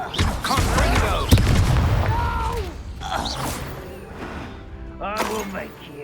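A Confringo explosive spell goes off in Hogwarts Legacy with a loud booming burst and crackling impact, followed by echoing magical effects and scattered game voices.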